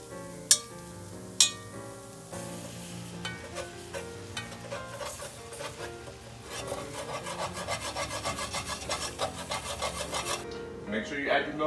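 A metal utensil scraping sausage grease and flour off a pan bottom for biscuit gravy, heard as a couple of sharp knocks and then steady rasping strokes that grow quicker and denser.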